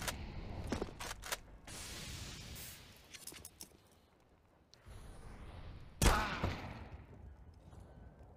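Gunfire from a Counter-Strike: Global Offensive match on the Train map in the ESL Pro League comes as several sharp shots early on and a loud burst later, set against busy in-game ambience.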